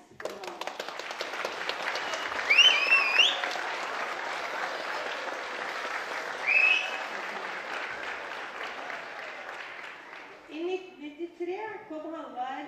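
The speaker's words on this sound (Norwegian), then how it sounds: "Vi tar en stor applaus for ham." An audience applauds at a Barn av jorden event in 2015, giving sustained, fairly distant clapping for about ten seconds that fades out as a voice begins speaking.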